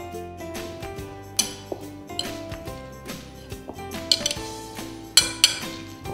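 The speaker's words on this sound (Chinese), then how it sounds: "好，现在可以开始搅拌。" Spoon clinking against a bowl while stirring a mixture of mint leaves and black pepper, with a series of irregular ringing metallic taps and scrapes, fairly close.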